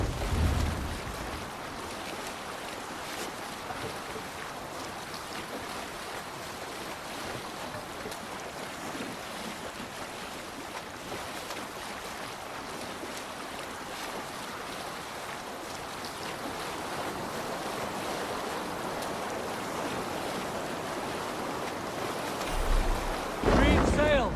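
A sailing ship at sea in the video game Assassin's Creed Valhalla, with a continuous rush of wind and waves washing steadily around the hull over the whole stretch, at moderate level, with occasional faint voices.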